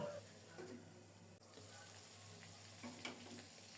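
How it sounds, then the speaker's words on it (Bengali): Mutton curry sizzles and bubbles quietly in a pan as it braises, with soft scraping and stirring strokes from a spoon now and then, close but faint. "এবার নেড়ে চেড়ে ঢেকে ঢেকে খুব সুন্দর মতো কষিয়ে নেব"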